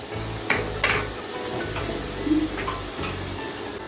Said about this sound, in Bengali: এখন আমি সেকে রাখা সর্ষের জলটা দিয়ে দিচ্ছি ভালো করে মিশিয়ে নিচ্ছি